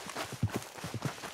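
Horse hooves clip-clop in the game Red Dead Online as the animal follows the player, a steady uneven run of soft thuds close by with no talk over it.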